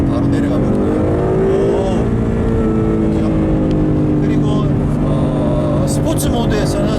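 A Ford Mustang GT engine roars loudly and continuously as it downshifts from about 80 km/h into second gear, revving high under someone talking inside the car.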